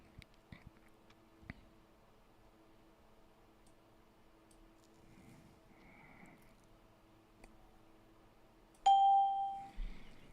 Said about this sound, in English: Somebody told me I should turn on the bell.